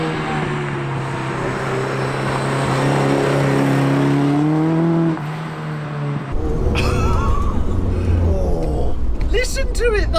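A classic car's 250-brake-horsepower engine revs and roars up close, rising in pitch, then drops and picks up again with a rougher, throatier burble.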